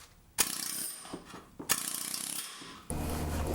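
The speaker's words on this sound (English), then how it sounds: "I didn't really like that air chisel too much." A pneumatic air chisel hammers on a vehicle frame during restoration prep. It comes in loud, close bursts of rapid, rattling impacts, with short pauses between them.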